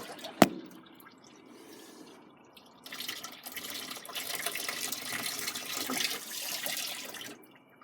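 Fluid pours from a 1947 Dodge with a Cummins diesel into a drain pan, a steady broadband liquid rush that swells after a sharp knock and keeps running close by.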